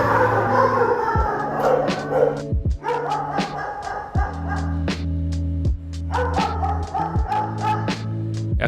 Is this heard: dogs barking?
yes